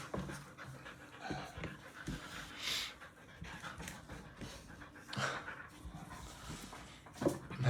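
A dog pants close by in quick, rhythmic breathy bursts, with a few faint whimpers and small movement noises mixed in.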